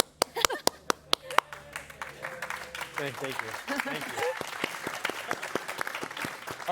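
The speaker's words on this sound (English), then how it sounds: "But the dock workers start clapping." A small group clapping on cue during a tabletop role-playing game session, the claps starting sparse and sharp and then swelling into steady applause, with a voice speaking over it.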